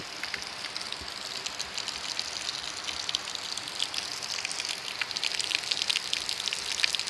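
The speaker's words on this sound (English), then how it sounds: "So that is actually river water, just the same coming through the land right here" River water in the Jamaican countryside gushes and splashes steadily over the land, a continuous close rushing with scattered droplet-like patter that swells slightly toward the end.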